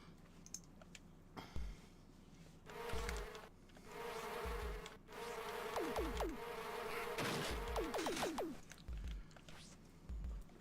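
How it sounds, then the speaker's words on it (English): Buzzing bees in an Amiga video game drone in repeated electronic swells among game effects and clicks, fairly faint under the game's soundtrack. "Those bees are annoying."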